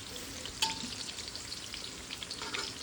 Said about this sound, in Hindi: इसको फ्राई कर रही हूँ